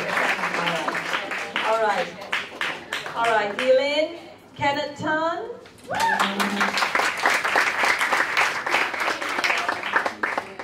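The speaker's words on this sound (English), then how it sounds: "Give a round of applause." A crowd at an event gives a round of applause, broad clapping that swells at the start and again through the second half, while a host speaks over it and pauses in between.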